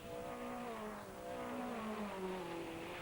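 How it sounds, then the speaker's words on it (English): TVR Tuscan race car with its sealed TVR engine passing at speed, a faint, steady engine drone whose pitch slides gradually downward as it goes by, heard alone. "Great sound from the AJP. The TVR engine, which is a sealed unit, it's in all of these cars."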